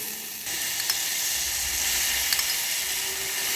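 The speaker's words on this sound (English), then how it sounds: "Now your tomatoes are sauteed well, we'll add tomato puree to it." Tomato puree hitting sautéed tomatoes in a hot pan for a pesto minestrone soup, a steady close sizzle that holds at even loudness throughout, with a couple of faint clicks and no voices.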